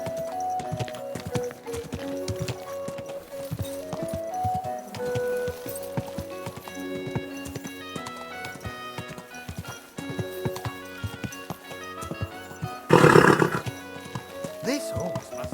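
A horse in Kingdom Come Deliverance 2 clip-clops and whinnies over a game music score, with one loud burst of noise partway through.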